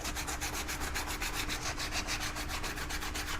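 Steady back-and-forth sanding of rough edges with sandpaper, a rapid rhythmic rasp close up, continuous and fairly loud with no talking.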